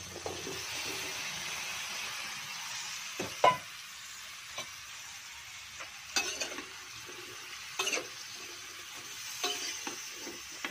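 Vegetables sizzle in a pan for ginataang gulay with shrimp while a utensil stirs them, giving a soft continuous frying hiss broken by scattered scrapes and clinks of the spoon against the pan.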